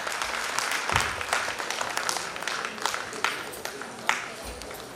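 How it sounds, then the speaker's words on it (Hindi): Hearty applause from an audience at a Founder's Day stage celebration in Dehradun, dense clapping with a few sharper claps standing out, steady throughout. "जोरदार हो तालियां, जोरदार तालियां"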